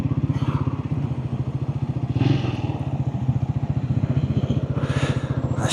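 A Triumph Scrambler 400X single-cylinder engine runs close by, a rapid, evenly pulsing thump with a couple of brief revs rising above the steady beat, and no speech.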